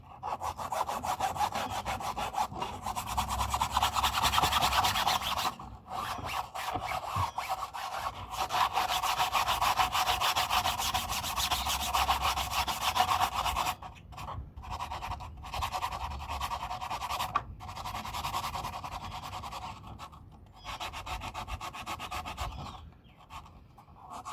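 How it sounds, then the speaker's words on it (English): A handheld power sander works over wood, a steady loud abrasive rasp running nearly the whole time, dropping out in brief gaps and coming back with slight shifts in pitch and pressure. "I got my trusty sander"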